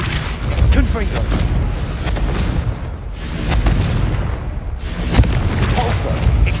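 Confringo fire-blast spell explosions from the Hogwarts Legacy video game, a dense run of loud booming bursts with crackle layered over continuous combat effects, spread across the whole stretch with no voices.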